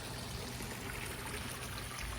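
Steady water from a hose spout splashing back into a backyard pond, a continuous quiet trickling stream with no break and no voices.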